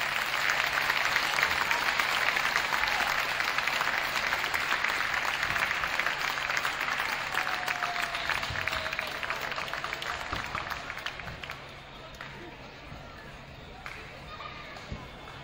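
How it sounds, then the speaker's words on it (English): A crowd applauds in a high school gym during a varsity boys' basketball game between Antwerp and Edon, honoring the seniors. The clapping is dense and sustained, then thins and fades after about eleven seconds, with scattered voices underneath. "let's give our seniors a round of applause"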